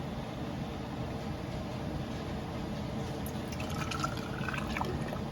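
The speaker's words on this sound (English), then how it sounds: "I'm just going to go ahead and start ladling my sauce in, trying to keep my jar as clean as possible" Homemade tomato sauce ladled into a canning jar, a soft continuous wet pouring and filling sound with faint trickles and small drips toward the end, close by with no talking.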